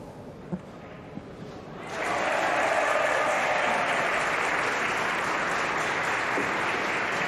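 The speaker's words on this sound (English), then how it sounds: "we've just heard a cheer from table 3" A crowd at table 3 of a pool championship match breaks into sudden sustained cheering and applause after a quiet start with a few small knocks, loud and continuous to the end.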